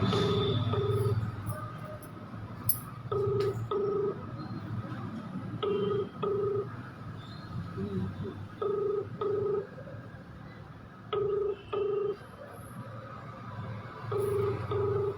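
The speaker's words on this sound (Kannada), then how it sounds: "ಅವ್ರು ಫೋನ್ ರಿಸೀವ್ ಮಾಡೋ ಥರ ಇಲ್ಲ ಅನಿಸುತ್ತೆ" Ringback tones from an unanswered outgoing phone call repeat in regular double pulses over low background noise, sounding clear and moderately loud.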